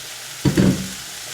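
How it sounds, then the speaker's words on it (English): Tomatoes drop into a hot pan for cajun chicken pasta, giving a quick burst of sizzling and a soft stirring scrape that fades over about half a second, close and moderately loud. "I'm going to go ahead and add in my tomatoes."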